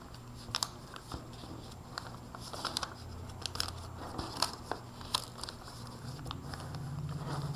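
Origami paper being folded into a crane makes soft, close crinkles, creases and light taps in an irregular pattern over a faint steady hum, with no talking.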